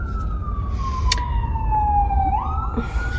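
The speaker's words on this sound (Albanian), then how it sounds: "ja dhe ambulanca." An ambulance siren passes along a street in the USA, a single loud steady wail gliding slowly downward over constant traffic rumble, then jumping back up near the end.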